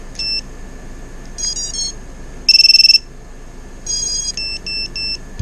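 Electronic beeping from a quadcopter's buzzer in short bursts: high chirps and tone patterns, one rapid buzzing stretch in the middle, over a steady faint whine.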